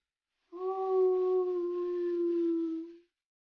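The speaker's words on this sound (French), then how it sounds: "En passant près des loups, ils se mettent à grogner. Ils se mettent ensuite à lâcher leurs cris." A single wolf howl from a tabletop role-play soundscape, one long clear sustained tone holding steady for about two and a half seconds before fading, heard alone against silence.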